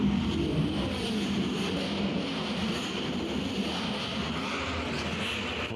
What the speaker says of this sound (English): They're revving the motorcycle engines.